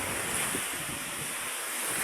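Ocean waves at Tutuligan Beach wash and churn steadily nearby, a constant hiss of surf mixed with wind noise on the microphone, with no one talking.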